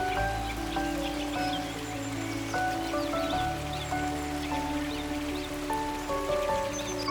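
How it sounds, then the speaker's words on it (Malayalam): Water flows steadily in a full stream running right beside a path near an old water temple in Kerala, a constant soft wash of rushing water with faint bird calls layered over it. "വഴിയുടെ തൊട്ടടുത്തുകൂടെ നിറഞ്ഞൊഴുകുന്ന തോടും വെള്ളം നിറഞ്ഞൊഴുകുന്ന ആ ശബ്ദം കേൾക്കാൻ തന്നെ ഒരു"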